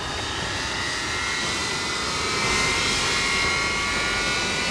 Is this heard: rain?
no